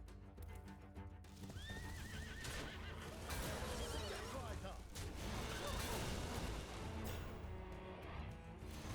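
A horse neighs in a video game card game, a whinny sweeping up and down over busy game sounds and hoof-like clatter, moderately loud.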